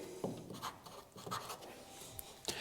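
A pen writes notes on paper at a quiet, close distance, with short scratchy strokes coming in uneven bursts.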